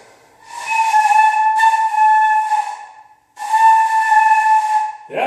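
A beginner sustains a breathy flute tone at a first lesson, two long steady notes with an airy hiss, the second following a short pause, ending with a brief voice.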